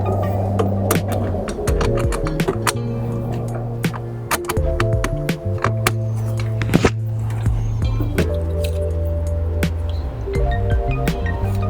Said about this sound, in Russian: И закручиваем гайку. При помощи 10-й головки.